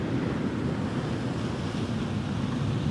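Small ocean swell washing in at the mouth of the Étang Saint-Paul lagoon, a steady broadband rush of surf mixed with wind buffeting the microphone, with no voices.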